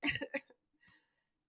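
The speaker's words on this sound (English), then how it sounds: "I still have a little bit of rumbling when I cough" A person coughs in a quick close burst of several hacking coughs, then after a short quiet a fainter throaty sound follows, and another cough starts at the end.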